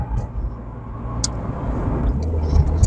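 A car with a CVT gearbox on the move: a steady low engine and road drone from inside the cabin, fairly loud and even, with faint clicks above.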